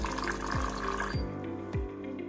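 A Philips EP 2220 espresso machine pumps water through its system in a steady, fairly quiet hum that cuts off partway, leaving a few soft repeated clicks and gurgles.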